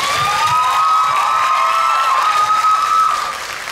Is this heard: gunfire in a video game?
no